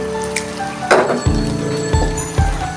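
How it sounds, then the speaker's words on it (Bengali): Spice tempering sizzles in hot mustard oil in a pan for a Bengali kala bhuna beef curry, with a steady crackling hiss broken by a few sharp clinks and thuds of spices and utensils, close and fairly loud, with no speech. "এখন আমি নামিয়ে বাগারটা দিয়ে দিচ্ছি এখানে আমার আরও মশলা অ্যাড করতে হবে"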